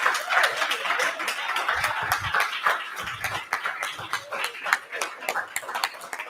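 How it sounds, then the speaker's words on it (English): Lively applause for comedians at an evening comedy and get-out-the-vote rally: dense, energetic clapping from a crowd, with a few voices and laughs mixed in. "Can we bring our comedians back up? You're going to give them a round of applause."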